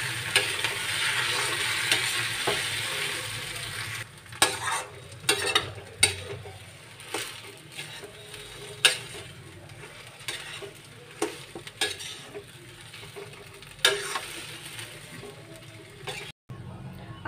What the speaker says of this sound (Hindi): अब हम इसमें मैश करा हुआ आलू डाल देंगे। इसको मिक्स कर लेंगे।